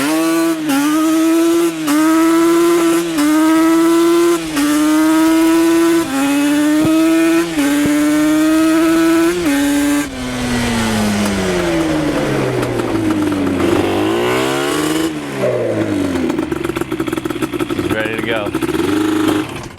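A loud two-stroke Yamaha Banshee ATV engine revs in steady bursts, then roars and rises and falls in pitch as the machine pulls away and returns.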